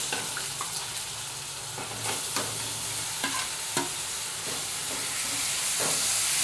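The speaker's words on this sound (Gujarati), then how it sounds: "દૂધીને સૌથી પહેલાં છે ને આ રીતે તેલમાં જ થોડીક સાતડી લેવાનું છે." Grated bottle gourd sautéing in hot oil with cumin, a constant bright sizzle with sharp clicks of stirring scattered throughout, close and steady without any talk.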